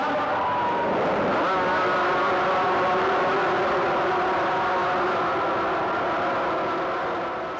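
350cc two-stroke Yamaha Cup racing motorcycles at Hockenheim in 1983, their engines blending into a loud, sustained high-revving whine of several machines together that shifts pitch and fades slightly at the end.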